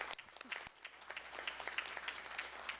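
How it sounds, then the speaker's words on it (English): People at a school board of education meeting give a round of applause, an uneven patter of scattered claps that sounds fairly faint and distant, with no voices over it. "You guys deserve a round of applause"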